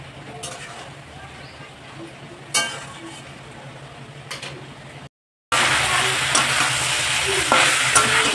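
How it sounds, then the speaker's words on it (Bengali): Katla fish head curry sautéing in a pan, a steady low sizzle with occasional scrapes of stirring, briefly cutting out then returning louder and hissier near the end. "ভালো করে আমি একটু কষিয়ে নিলাম"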